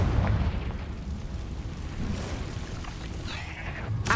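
A Confringo blasting spell goes off in a cave in Hogwarts Legacy, making a deep, rumbling, sustained blast with crackling debris and a sharper burst at the end.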